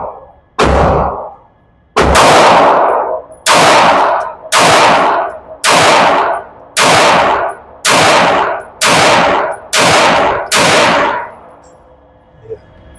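Kimber Eclipse pistol fired at an outdoor range: ten loud, sharp shots, one, a short pause, then nine evenly spaced at about one per second, each with a brief ringing tail, close and dominant with no talk.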